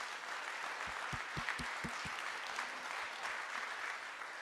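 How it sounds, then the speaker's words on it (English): An audience applauds at a clean-energy conference plenary, steady crowd clapping at a fair distance, with a brief run of nearby thumping knocks partway through. "If you could please join me in giving these guys a round of applause."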